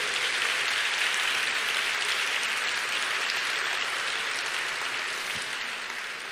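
Sustained applause from a crowd, a dense, steady clapping that holds for several seconds and tapers slightly at the end.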